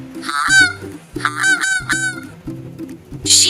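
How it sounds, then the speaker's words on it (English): A goose gives a series of loud, nasal honks in quick bursts, up close, with background music running underneath throughout. "Goose."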